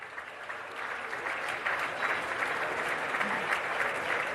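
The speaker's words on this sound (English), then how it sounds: "He deserves a big, big round of applause." An awards ceremony audience gives a round of applause, a dense, steady patter of many hands clapping that builds slightly and holds.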